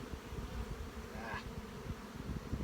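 Honey bees hum in a steady, faint drone at an open hive during an inspection, with no talking heard.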